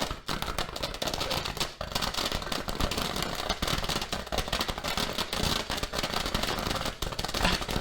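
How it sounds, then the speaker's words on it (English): A Gatling Roman candle firework rated at 650 shots fires a dense, continuous barrage of sharp cracking bursts, loud and close, filling the whole stretch without pause. "Gatling Roman candle."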